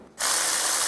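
A hand ratchet snugs down a nut on the alternator of a 2000–2007 Ford Focus 2.0L four-cylinder, giving one brief, close burst of rapid metallic clicking after a short quiet start.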